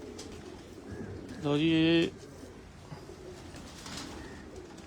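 A pigeon among a fancier's birds gives one clear, resonant coo of about half a second, close to the microphone, with quiet talk and background murmur before and after.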